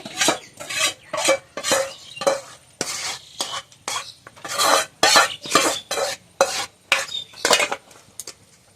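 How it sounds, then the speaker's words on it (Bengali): Metal bowls set down one after another for a semolina tiffin, a rapid series of bright clattering knocks and scrapes, close and loud, no voices. "এবার আমি বাটিগুলো এক এক করে বসিয়ে দেবো"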